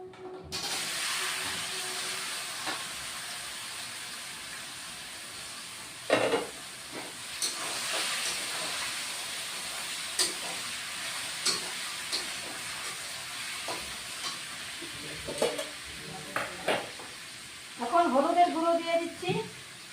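Taro stolons (kochur loti) fry in a pan with a steady soft hiss and sizzle, broken by occasional stirring clicks, and a voice speaks briefly near the end.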